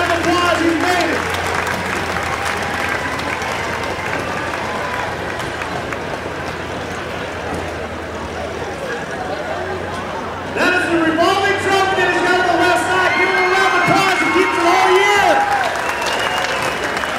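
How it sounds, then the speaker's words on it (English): A grandstand crowd at the 2014 Pig N Ford races applauds and cheers the world champion winner, with dense, steady clapping throughout that swells louder partway through, and a few voices mixed in. "Give him a big round of applause."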